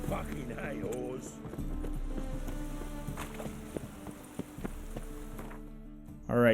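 Hooves from a galloping horse in The Witcher 3 video game clatter steadily over a humming game backdrop, ending in a sudden louder burst.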